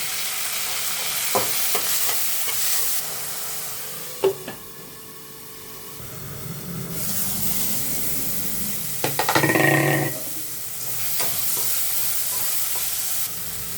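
Onion and tomato frying in a pan, a close sizzling hiss with light scraping and tapping of a spoon, a quieter stretch midway, then a louder burst of crackling as more goes in, without talk.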